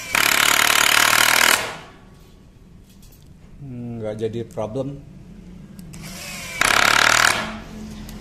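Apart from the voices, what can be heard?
Tekiro 20V cordless impact driver running at speed 1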